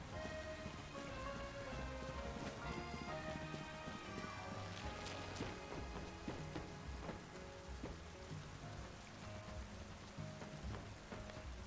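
Steady rain falls across a scene in the video game Pokémon Legends: Z-A, a continuous patter running alone with no talk and faint background game music or tones throughout.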